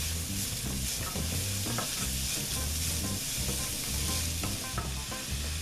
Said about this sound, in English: we will add in the carrot and the pepper. And we will saute that now for another 3 minutes.